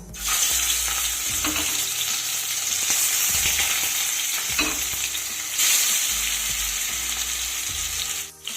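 Steady, loud sizzling of katla fish frying in hot mustard oil over medium heat, continuous throughout with occasional scraping and clinks from turning the pieces.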